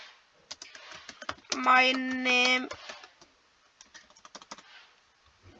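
Computer keyboard typing, scattered quick clicks before and after a short spoken word in Hindi, close and moderately loud with a hum-like tone in the middle.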